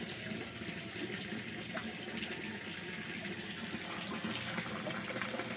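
Steady continuous splashing of water pouring into a backyard concrete fish pond, loud and close, unbroken throughout with no talk.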